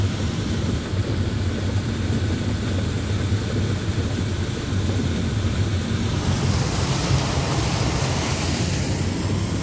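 Waterfall at Wheeney Creek in New South Wales, a steady loud broadband rush of falling water, close and continuous for the whole stretch.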